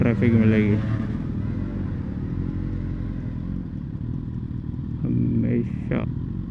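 Traffic at a signal in Bukit Bintang, Kuala Lumpur, heard from a motorcycle: a loud, steady engine rumble and idling vehicles fill the scene, with someone talking briefly at the start and end.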